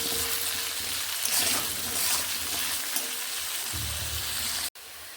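Potatoes fry with salt in hot oil, giving a loud, steady, close sizzle that hisses continuously, then cuts off abruptly near the end before resuming more faintly.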